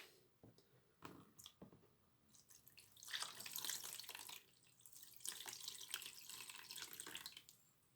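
Water is poured onto a sand coastal-defence model, making a close, gurgling, splashing trickle in two surges with short drips between.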